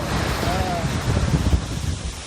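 Ocean surf washing quickly in over finely ground sand at a beach below Mt. Fuji, with a loud rushing swell and buffeting wind noise on the microphone.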